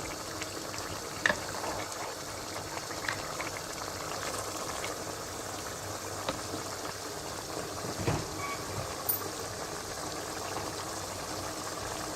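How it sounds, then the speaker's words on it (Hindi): Aloo matar qeema, minced meat with potatoes and peas, stir-fried in oil: a soft, even sizzling hiss throughout with a few faint clinks from stirring, fairly quiet. "अब इसको अच्छी तरह से मिक्स करके भून लेना है।"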